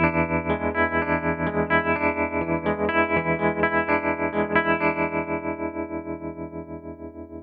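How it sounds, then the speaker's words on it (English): An electric guitar chord run through a Hardwire TR-7 pedal on a basic classic amp-style tremolo setting, pulsing in steady rapid volume throbs that slowly fade as the chord rings out, with no talking. "Here is a basic tremolo."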